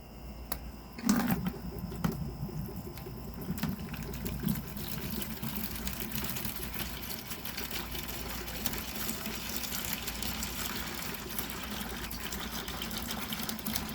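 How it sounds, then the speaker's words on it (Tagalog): Water drains steadily from the tube of a clogged water vending machine after the upturned gallon is removed, a constant trickling gush with a faint mechanical hum and a sharp knock near the start. "kailangan i-drain nyo muna yung natitirang tubig na yan after nyo tanggalin yung nakataob na galon dun sa unit nyo"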